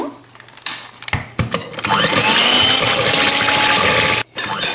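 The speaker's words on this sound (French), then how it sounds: "Et je rajoute le lait et je vais mixer cette préparation" After some short clatters, a kitchen blender whirs loudly and steadily, mixing crêpe batter of eggs, butter, vanilla and milk, then cuts off briefly near the end.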